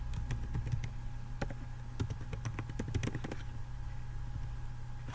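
Keyboard keys tapped in quick irregular bursts as a username and password are entered, close and clear over a steady low hum, then pausing into quiet hum.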